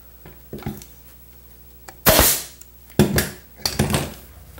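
An upholstery staple gun shoots temporary staples into the rail of an Eastlake chair. It gives several sharp, close snaps at irregular intervals, with quieter handling noises in between.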